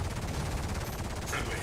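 Rapid automatic gunfire from a weapon in the space combat game Star Citizen, a dense loud burst of shots filling the short moment with no talk.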